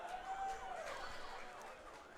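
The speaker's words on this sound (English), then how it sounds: "now I hear the police siren" A police siren wails at a moderate distance, a steady rising and falling tone lasting throughout, heard during a state tournament baseball game with faint ambient crowd noise.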